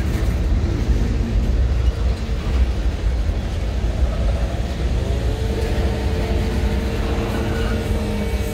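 A steady low rumble of a long CSX freight train with a mid-train locomotive rolling slowly past nearby in Palmer, Massachusetts, with continuous rattling and clanking of railcars throughout.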